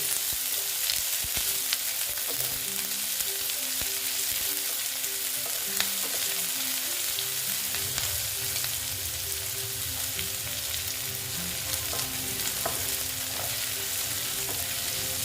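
Chopped onion frying slowly in hot oil for ghugni gives a loud, steady sizzle with occasional stirring scrapes. No one speaks.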